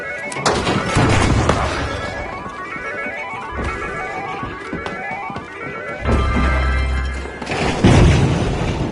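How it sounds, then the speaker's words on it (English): Planted explosives going off in the team shooter The Finals, heavy booms with shattering debris and crashes, loud repeated blasts spread across the stretch with game music and effects underneath. "Planting explosives!"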